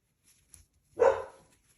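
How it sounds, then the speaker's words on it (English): A single short, muffled bark from a pet dog indoors, fairly faint and a little distant, standing alone after a couple of tiny clicks. "That's my dog."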